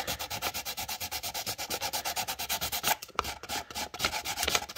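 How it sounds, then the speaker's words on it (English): Steady back-and-forth hand sanding of a plastic starship model, a rhythmic rasping scrub repeated quickly and close, with a brief pause near the end. "So we're gonna do a little bit of sanding here."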